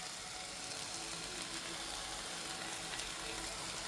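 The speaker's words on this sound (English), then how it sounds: "Now I'm going to put tomatoes in." Tomatoes, mushrooms and onions frying together in a pan give a steady, close sizzle with a dense crackling hiss that holds even throughout, no voices over it.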